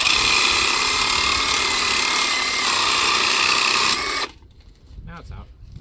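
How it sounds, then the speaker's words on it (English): A Sawzall reciprocating saw cuts through metal on an abandoned 1997 Dodge Grand Caravan SE, a loud steady buzzing rasp for about four seconds that stops abruptly, followed by quiet rustling and a brief voice. "One more cut with the sawzall."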